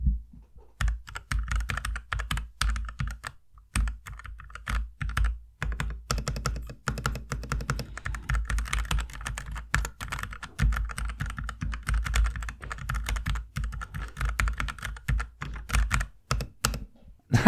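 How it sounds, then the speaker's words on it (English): Steady typing on a Keychron K8 mechanical keyboard on a table, a continuous stream of close, crisp key clacks with uneven rhythm and a few brief pauses. "I'm going to just see how it sounds when I'm typing."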